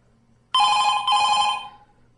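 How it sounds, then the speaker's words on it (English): A telephone in the Five Nights at Freddy's 2 horror video game rings loudly: one sustained electronic bell tone with a brief dip midway, starting abruptly and fading out after about a second, alone without talk. "Oh, that phone is so loud!"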